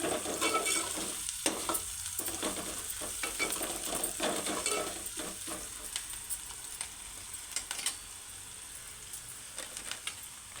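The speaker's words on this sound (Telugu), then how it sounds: "సగం టీ స్పూన్ పసుపు వేసుకొని కలుపుకోవాలి" Bhindi (okra) frying in a pan as turmeric is stirred in, a continuous close sizzle with irregular scraping stirs, louder at first and settling lower, no talking.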